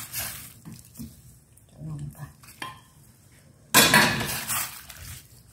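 Pork offal going into a pot of boiling water with clams while making pork offal soup, heard as metal pot and utensil clinks and a loud splash of contents near the end, with a cook talking in between.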